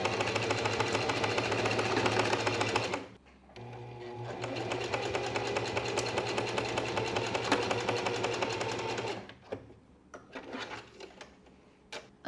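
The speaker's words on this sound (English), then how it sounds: "I'm just going to be sewing down the sides here" A sewing machine stitches the side seams of a mini skirt, running in a fast, steady mechanical whir for a few seconds, pausing briefly, then running on before stopping and restarting in short bursts.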